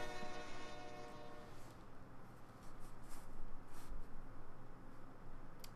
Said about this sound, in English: Are we gonna get hit by a train?